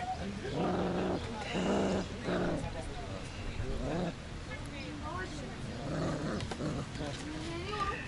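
Puppies growl in short, playful bursts, close by, with a person talking softly over and between the growls.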